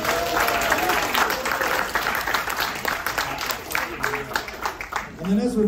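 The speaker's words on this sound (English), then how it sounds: "So another round of applause" Applause from an audience aboard an Antarctic cruise ship, a steady burst of many hands clapping together at close range, with a voice speaking over it.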